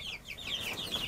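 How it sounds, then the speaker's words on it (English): A Buff Orpington rooster and young chickens cluck and peep softly in a coop, a brief faint burst of high chirping notes with no talking. "That's our rooster. Buff Orpington rooster."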